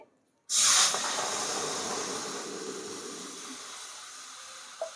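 Water hits a hot kadhai of roasted peanuts and sesame seeds with a sudden loud sizzling hiss that slowly fades into a steady, softer bubbling steam for several seconds, with no talking.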